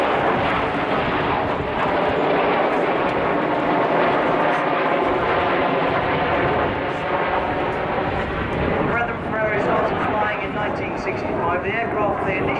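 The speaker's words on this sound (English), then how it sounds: "Now as the jets go upside down, boys and girls, give the pilots a wave" Royal Air Force Red Arrows Hawk jets fly an aerobatic display at RIAT 2014, a continuous loud jet roar filling the whole stretch as a commentator speaks over it.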